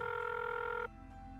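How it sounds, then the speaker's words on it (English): A telephone rings once at midnight with a bright electronic trill that cuts off just under a second in, leaving a low droning hum. "It was midnight when the phone rang."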